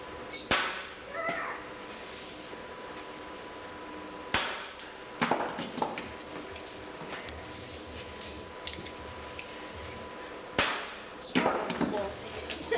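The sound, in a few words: sledgehammer pounding chisel into wood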